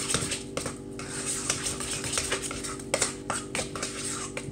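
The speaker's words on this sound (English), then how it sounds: "And then you're going to stir it." Egg salad stirred in a bowl with a utensil, giving soft, irregular scraping and clinking against the bowl over a steady low hum, with no talking.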